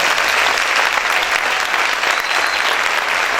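Loud, dense applause from a church congregation fills the space, a steady uninterrupted roar of many hands clapping close by with no talk over it.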